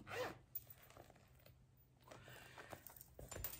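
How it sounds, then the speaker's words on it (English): A zipper on a section of a purse is opened, giving a faint, quick scratchy rasp near the start and again toward the end, with small handling rustles between and no talking. "then it does have a section that also has a zipper"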